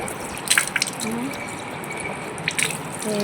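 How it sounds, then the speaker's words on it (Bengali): Hands being washed under a running kitchen tap at home, with a steady rush of water broken by a few brief splashes and drips, close by and moderately loud. "তো চলো হাতটা ধুয়ে নিলাম"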